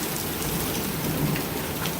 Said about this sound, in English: It's raining a little bit, but I'm not too bad.